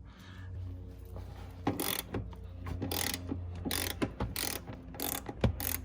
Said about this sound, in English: So I'm gonna use my 14 millimeter ratchet.